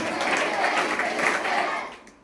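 Audience at a school lecture applauding loudly, a dense steady burst of many hands clapping that tapers off at the end.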